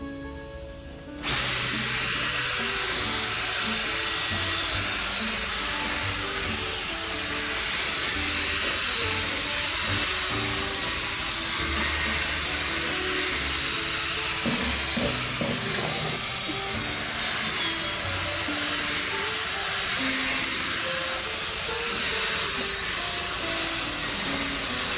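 A Desiderio Plus steam cleaner scrubbing a car seat during detailing, with a loud continuous hissing, whirring drone that starts abruptly and holds steady throughout, close up.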